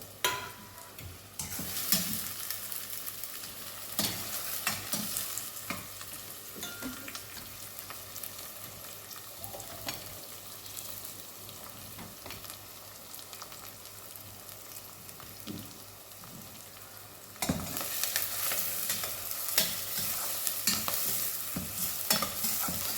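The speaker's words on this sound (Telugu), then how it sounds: "ఇది పచ్చి వాసన పోయేదాకా ఉప్పించుకుందాం మనం వేయించుకోవాలి" Egg curry masala frying and stirred in a pan, a continuous sizzle with repeated spatula scrapes and clanks, growing louder and busier near the end.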